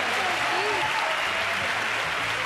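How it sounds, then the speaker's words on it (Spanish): A studio audience at a Spanish television quiz show applauds steadily in a dense sustained wash, with a voice talking faintly underneath. "Y ahora les invito a que ellos sigan aplaudiendo, ahora un poquito más moderado"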